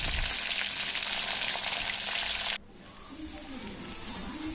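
Spice paste fries in oil in an iron wok for a dry prawn curry, giving a loud, bright sizzle. The sizzle cuts off abruptly halfway through, leaving a quieter crackle behind.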